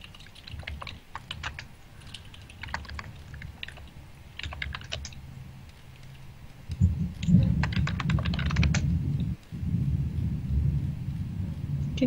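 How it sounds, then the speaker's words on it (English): Thunder rolls in as a deep, low rumble that swells midway and lingers, heard faintly behind rapid computer keyboard typing and clicking indoors. "It's thunder."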